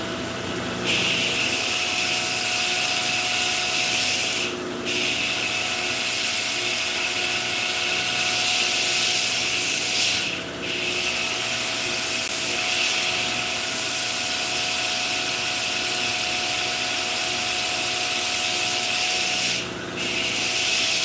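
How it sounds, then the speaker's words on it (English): Knife handle material is ground on a machine in a long, loud, continuous rasping whir, broken by three brief pauses as the piece is lifted away. "I want to grind this real quick."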